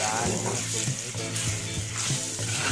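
Coconut paste and a little turmeric sizzle and fry in a pan for a Bengali greens dish. The hiss is steady and close, with some stirring and a voice faintly underneath.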